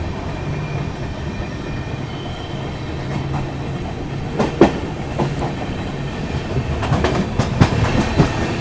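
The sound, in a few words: Mumbai Howrah Duronto Express train running on rails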